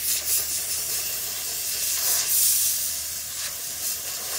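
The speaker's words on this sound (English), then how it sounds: "you could also steam this" Steam cleaner hissing onto a dirty car seatbelt: a steady, close spray of steam with a few louder surging bursts, and no voices.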